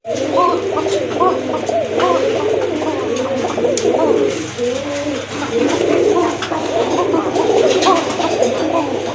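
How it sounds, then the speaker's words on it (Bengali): A pair of Koka pigeons, male and female, coo together in repeated soft, rolling calls, close and clear over a low steady background hum. "এটা কিন্তু দুইটা কবুতরই কিন্তু ডাকে, নর মাদি সমান তালে কিন্তু ডাকে।"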